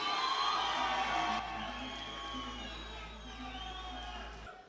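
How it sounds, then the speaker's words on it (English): An awards-show audience at the Sun FM Kwacha Music Awards 2017 cheers and applauds the Best Male Artist winner: a dense, sustained crowd roar that holds steady for several seconds and then cuts off abruptly. "Give him a round of applause."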